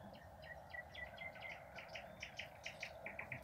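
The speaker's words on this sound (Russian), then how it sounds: "Птички поют." Birds sing in the evening by the Western Dvina river, a steady stream of repeated chirps and short whistled notes, moderately distant, over a soft continuous outdoor hum.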